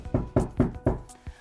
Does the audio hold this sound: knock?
yes